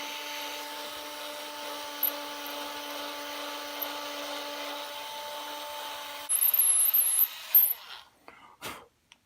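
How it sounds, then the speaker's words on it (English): A power drill bores a pilot hole in a Squier Jaguar short-scale bass body, a steady motor hum for about six seconds followed by a louder, rougher burst as the bit bites, then stopping. "we're going to drill a pilot hole"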